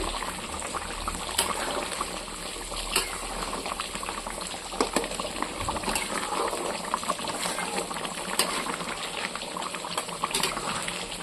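Rupchanda fish curry cooked with coconut paste bubbles and simmers steadily in a pan, with a continuous soft hiss and scattered small pops of reducing gravy, close and fairly quiet, no voices.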